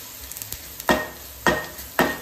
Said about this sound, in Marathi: तर हे मसाले जे आहेत ते सर्व तेलामध्ये चांगले असे मिक्स करून घ्यायचे आहेत